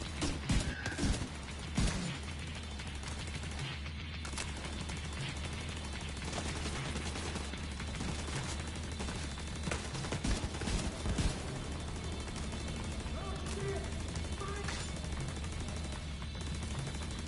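Mounted turret fire in the video game The Division 2, a dense, continuous rattle of rapid shots with heavy low rumble running nearly the whole time at steady loudness.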